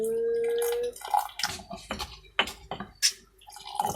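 Boiled water is poured into a mortar while ingredients are pounded. Uneven splashy gushes come with soft knocks and brief rustles, close and moderately loud, with a steady tone at the start.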